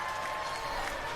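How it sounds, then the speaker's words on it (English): A BlizzCon panel audience reacts loudly to a question, a dense, continuous crowd roar of booing and noise filling the hall for the whole moment. "Booed immediately."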